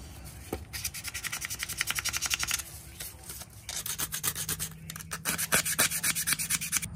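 A vintage Western knife surface is roughened by hand to prepare it for epoxy, giving steady rhythmic rasping strokes in two close, fairly loud bursts separated by a short pause.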